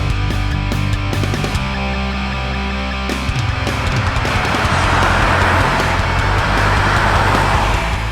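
Steady road and engine hum inside a 2018 GMC Terrain cruising at 40 mph, a constant low drone with tire noise and no talking.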